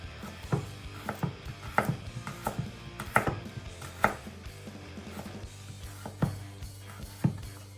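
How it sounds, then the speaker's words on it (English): A knife cuts a carrot into thin slices on a cutting board, producing a rhythmic series of crisp, close chops roughly every half second, some louder than others, over quiet background with no talking. "we're going to do some nice thin slices on the carrot there"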